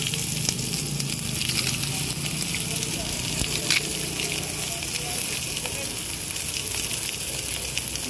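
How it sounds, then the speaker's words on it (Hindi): Chowmein frying at a busy street food stall in Raipur, with a loud, steady sizzle and hiss of oil under continuous clatter, people talking in the background. "देखो चाउमीन बन रहा है"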